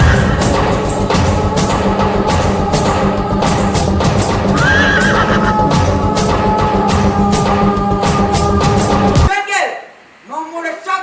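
Loud horse whinnies and clip-clopping hooves play for the cavalry in a chess-themed school play at St Mary's School, Puthuppally, Kerala. Repeated neighs run over a busy background, then the sound cuts off abruptly into near quiet with brief voices.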